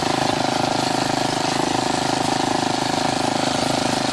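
An old 20th-century walk-behind tractor engine runs loud and close, holding a steady, rapid chugging drone with an even mechanical pulse and no pauses.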